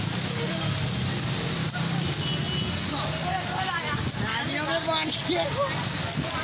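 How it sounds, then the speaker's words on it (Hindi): Continuous hiss of heavy storm rain falling in Nanded city streets with flooded roads, with voices talking over it throughout. "बारिश का सिलसिला जारी है।"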